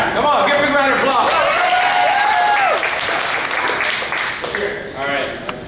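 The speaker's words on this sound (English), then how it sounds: "Give a big round of applause." Loud, dense audience applause fills a kids' talk event, with excited cheering voices rising over the clapping before it thins slightly toward the end.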